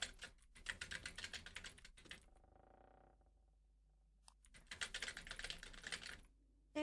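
Rapid typing on a computer keyboard comes in two close, busy bursts of clicking keys, separated by a brief quiet pause.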